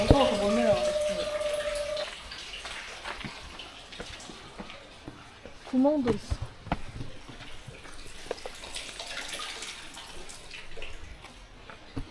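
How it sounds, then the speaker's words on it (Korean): Steady rushing water fills the background in a park in Sintra, Portugal, with a person briefly speaking over it and a few sharp knocks. "물소리가 나는데"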